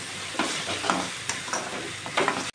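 Drumstick leaves cook in a tomato gravy for a kurma, a gentle bubbling fry with repeated spatula stirs and scrapes against the pan, close and without talk.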